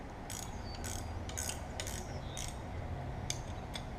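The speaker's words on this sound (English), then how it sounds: "I had to grab a wrench and tighten that up." A ratchet wrench tightens a bolt on an International Harvester 1066 tractor, giving rapid metallic clicking in several short bursts close by, with steady background noise and no talk.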